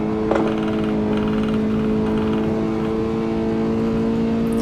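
A Toyota GT86 engine in the Assetto Corsa racing sim, driven on the Nordschleife, holds a steady, loud drone at a fairly constant pitch throughout.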